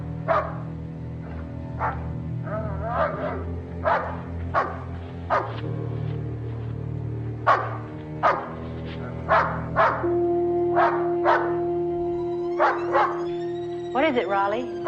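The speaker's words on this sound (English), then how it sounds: "she was awakened from a sound sleep by the barking of her dog, Raleigh." A dog barks in a night-time horror film scene, a steady series of sharp single barks spaced a second or two apart, fairly close, over a low humming background with a steady tone entering midway.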